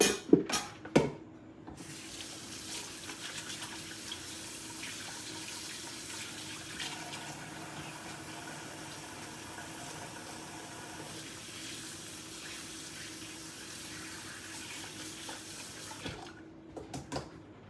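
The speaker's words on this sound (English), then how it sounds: "I am going to wash my hands off." Water runs steadily from a kitchen tap as hands are washed, a soft, even hiss and splash lasting about fifteen seconds, framed by a few sharp knocks at the start and end.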